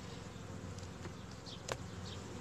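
Honeybees buzz in a dense, continuous drone inside an opened nucleus hive during a queen check, a close and steady hum with a few individual bees passing nearer to the microphone.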